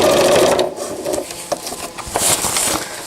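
A new sewing machine stitching a cloth diaper cover with cased elastic, running in a close, steady whirring burst, then slowing into uneven mechanical taps and rasps.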